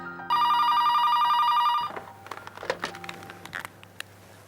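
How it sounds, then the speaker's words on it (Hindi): A telephone bell rings loudly and steadily in a home for a couple of seconds, then stops, followed by clattering handling noises as the receiver is picked up. "फोन की घंटी।"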